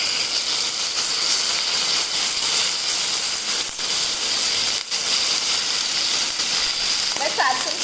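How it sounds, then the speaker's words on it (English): Chicken pieces frying in hot extra virgin olive oil in a pan give a steady, loud, continuous sizzle and hiss throughout, with a few brief crackles near the end. "You should be getting this kind of a sizzling sound."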